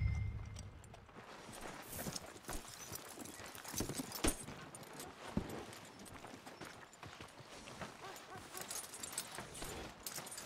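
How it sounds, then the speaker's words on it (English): Horse hooves clip-clop steadily and close by in the Red Dead Redemption 2 video game, a continuous walking rhythm over an open-air ambient backdrop. "Are you gonna mount that new horse of yours or not?"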